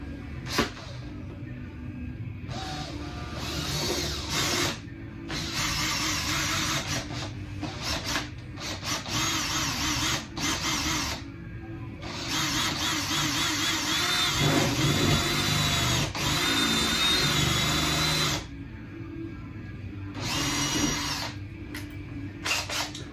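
A power drill grinds continuously through roofing material for a flue modification, a loud harsh whine with brief pauses and restarts, close to the listener.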